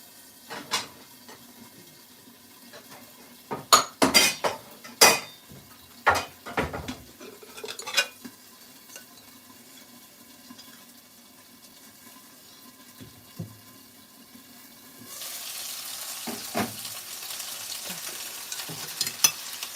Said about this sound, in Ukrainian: жарю, смажу без яйця